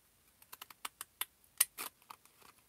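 Postage scissors cut paper in a series of short, crisp snips and clicks, irregularly spaced, close and fairly quiet, with one louder sharp cut near the end.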